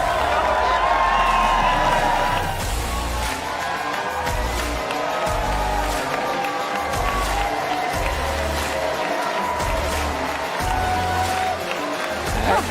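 A large CPAC conference crowd cheers and applauds loudly and continuously, a dense roar of voices and clapping that stays strong throughout, with amplified voices mixed in.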